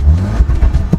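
A Volkswagen Golf R engine revs loudly up close in race mode, with a few sharp crackling pops from the exhaust breaking through the roar.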